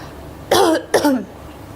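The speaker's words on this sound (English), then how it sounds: "I have cough. I'm coughing a lot." Two quick, harsh coughs close by, the second following just after the first, with quiet background before and after.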